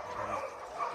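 Several shelter dogs bark and yip together in a busy, continuous chorus, moderately close, with a few whimpering notes mixed in.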